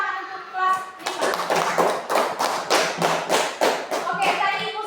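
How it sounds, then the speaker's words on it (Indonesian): A fifth-grade class of children claps together in a quick, rhythmic pattern of around a dozen sharp beats, loud and close, with children's voices chanting along at the start and end. "tepuk tangan untuk kelas 5"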